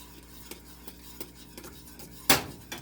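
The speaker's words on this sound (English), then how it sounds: "And mix that in. Mix that in really good." Spoon stirring spices into a thick, bubbling cheese sauce for macaroni and cheese, soft scattered taps and scrapes against the pot with one sharper clank, close and fairly quiet.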